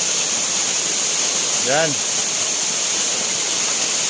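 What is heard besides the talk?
Fikong Falls waterfall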